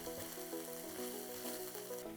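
Fermented bean paste fries in hot oil for spicy mapo tofu, giving a steady, close sizzle that runs throughout beneath a tonal background melody.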